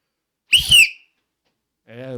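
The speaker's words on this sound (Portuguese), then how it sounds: "Quando eu apitar, é sinal que começou." A single sharp, shrill referee whistle blast starts a street football match, followed after a pause by a brief lower voiced sound.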